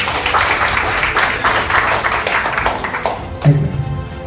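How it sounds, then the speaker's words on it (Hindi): Audience applause at a corporate motivational show, a dense wash of clapping from a crowd that holds steady for several seconds, with a brief louder thump near the end. "एक बार जोरदार तालियां।"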